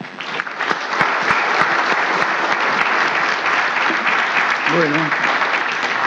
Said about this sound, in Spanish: Despedimos con un fuerte aplauso al señor Viceministro de Salud de la Nación.